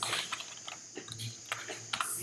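A phone number being entered on a computer keyboard: soft, quick keystrokes in an uneven rhythm, close but fairly quiet, with no talking.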